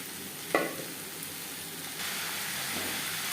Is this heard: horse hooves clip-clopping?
no